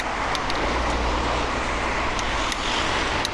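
Steady road traffic in Singapore, a continuous dense rumble of cars passing nearby on a busy road with no traffic light, constant and loud throughout.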